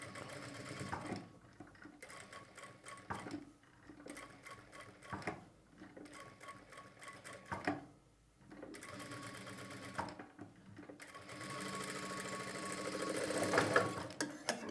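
A sewing machine stitches a line over the seam of a fabric lining for piping, running in close, rapid mechanical bursts separated by brief pauses, with no talking.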